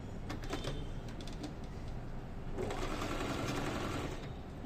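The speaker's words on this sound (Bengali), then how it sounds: "আমি সেলাই করছি, এখন আমি পিছনের দিকে সেলাইটা নিতে চাচ্ছি।" A Singer automatic sewing machine stitching in a steady, fast mechanical whir with rhythmic needle clatter, close up, pausing briefly before running again louder.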